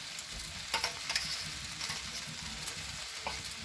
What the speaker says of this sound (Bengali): সাদা সর্ষে বাটাটাও দিয়ে দিলাম।